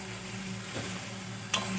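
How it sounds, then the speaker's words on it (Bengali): Masala spices frying in a pan for an egg omelette curry, a steady soft sizzle running alone throughout, with a brief brighter crackle near the end. "খুব ভালো করে মশলা আমি কষিয়ে নেব।"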